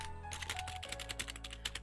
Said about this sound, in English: It feels so good for a membrane keyboard.